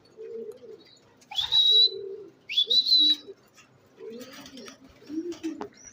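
Racing pigeons arriving at the loft during a derby coo softly in low, rolling calls, with a few sharper chirps mixed in, heard close and fairly quiet with no voices.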